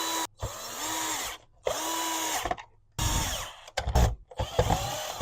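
A power screwdriver drives screws back into the brushroll head of a Shark Vertex Duo Clean vacuum: three short whirring bursts with pauses between, followed by clicks and light clatter.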